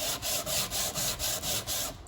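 Wood for a knife block is sanded by hand in quick, even back-and-forth strokes, about eight rasping passes in a steady rhythm, close and with no voices.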